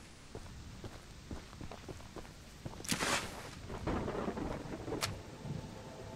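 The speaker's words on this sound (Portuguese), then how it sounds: "Tomando chuva à toa ali" Steady rain patters with a sharp nearby thunder crack and a second clap a moment later in the Choo-Choo Charles game, with faint footsteps in the downpour.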